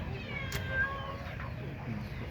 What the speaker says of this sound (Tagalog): Ito ang makukulit na pusa.